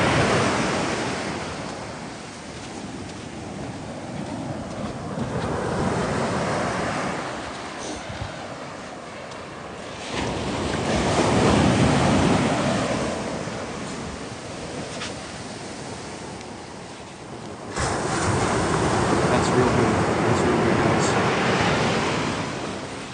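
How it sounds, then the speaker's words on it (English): Ocean surf at sunrise recorded close to the water, waves rolling in and breaking in broad rushing swells roughly every few seconds, with wind buffeting the microphone and no talking. "Let's get you some good sound there close to that ocean"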